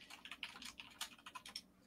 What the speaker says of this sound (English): He is hate typing.